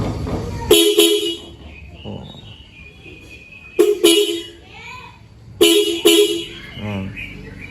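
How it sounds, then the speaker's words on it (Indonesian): A motorcycle horn being tested after switch wiring on a Yamaha Vixion, with three short loud pairs of bright honks close by and quiet talk in between. "Ini kita pertama kita coba klakson."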